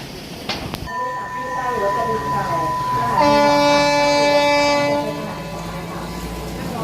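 Thai passenger train 275 from Bangkok, with old wooden passenger cars, rumbles past with a long, loud horn blast over steady rail noise; voices murmur faintly in the background.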